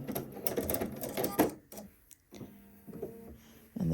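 Short bursts of a sewing machine stitching fabric for a skirt, stopping and restarting with a backstitch, close and fairly quiet, with a brief pause and light handling noises.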